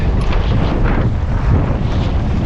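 Strong wind buffets the microphone aboard a sailboat on a Finnish lake, in a loud, continuous low roar with gusty surges.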